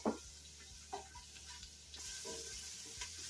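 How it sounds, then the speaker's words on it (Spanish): Sliced onion sautéing in hot olive oil, stirred now and then: a quiet, steady sizzle with a few soft scrapes and clicks from the utensil, close by, with no voices. "Una vez caliente nuestro aceite, vamos a sofreír aquí la cebolla que fileteamos."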